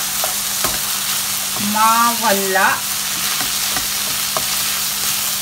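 Food sautés, sizzling and spitting steadily in a hot pan with some water still bubbling, while making ragu sauce, with a brief spoken word in the middle.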